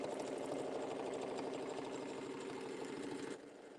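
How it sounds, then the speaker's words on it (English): Sewing machine stitching back and forth on a quilted table mat, a steady close mechanical whir with rapid needle ticks that stops abruptly near the end. "And I'm just going to stitch back and forth a little bit."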